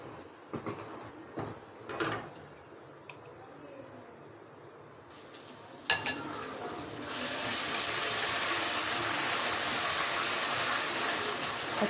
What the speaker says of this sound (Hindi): इसमें ज़ीरे का 1 चम्मच और चंद लौंगे और तेज़पात डाल के इसको थोड़ा सा भून लेते हैं